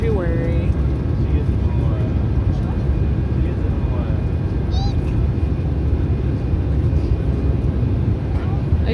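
Inside a jet airplane cabin in flight, a constant loud engine roar and air rush fills the background while a child and an adult talk over it.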